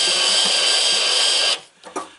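A power drill drives screws into a plastic game feeder, a loud steady whirring motor that runs about a second and a half, then stops, followed by a few faint clicks.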